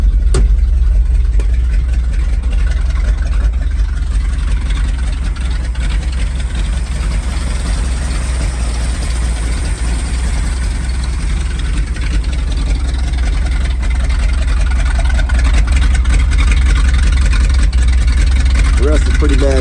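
A 1975 Ford F250 Highboy pickup engine idles steadily, a low continuous rumble that stays close and even throughout with no breaks.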